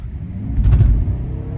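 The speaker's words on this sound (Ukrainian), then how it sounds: "в мене знову знову Toyota Camry, тепер даю газ пол." A Toyota Camry accelerates at full throttle, its low engine rumble swelling to a louder peak mid-way and then easing slightly, heard from inside the car with no talk.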